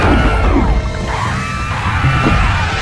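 A monster in the Medievil game screams loudly when struck, giving a harsh, strained cry that fills nearly three seconds, with thuds and clatter of combat underneath.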